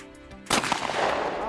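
A single close, sharp shotgun blast fired at a clay target at a shooting park, followed by a brief rolling echo. A faint tonal hum sits under the sound just before the shot.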